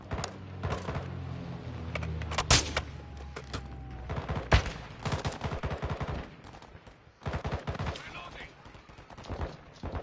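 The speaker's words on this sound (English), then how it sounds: "Who's shooting at me?" Rapid bursts of automatic gunfire and scattered single shots in a Modern Warfare III firefight on PS5, loud and close, coming in clusters with short gaps between volleys.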